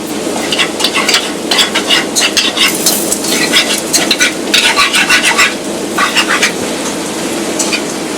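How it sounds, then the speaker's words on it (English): A pan of beef goulash being scraped and stirred while red wine cooks in it, a steady loud sizzle with repeated scraping and stirring strokes, close and continuous, no voices. "you want to be able to scrape the bottom of the pan and get all that golden goodness from the bottom of the pan"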